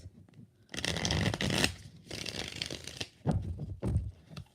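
A deck of tarot cards is riffle-shuffled twice in quick bursts of crisp fluttering, followed by a few soft taps as the cards are squared, heard up close and quiet.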